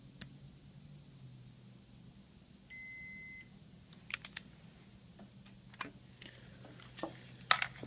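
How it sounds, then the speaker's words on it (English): A continuity tester on a Yamaha RX-V795 receiver under repair gives one steady electronic beep lasting just under a second, loud and clear over a quiet room with a low hum, followed by a few sharp clicks and taps. "and then I put it on the continuity tester."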